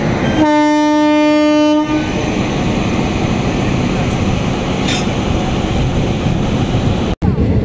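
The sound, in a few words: train at railway platform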